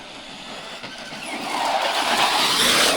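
A Traxxas Rustler 4x4 Ultimate RC car drives, its whining electric motor rising steadily in pitch and loudness as it speeds up over rough ground outdoors.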